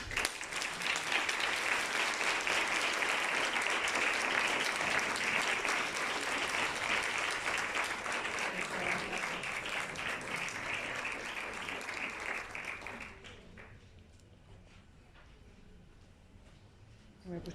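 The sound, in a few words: audience applause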